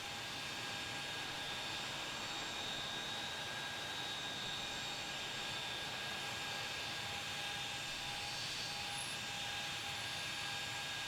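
A Brickyard airliner jet passes in Tower Simulator 3 at KRDU, a steady, even roar with a faint whine running through it that holds level from start to finish, with no voices.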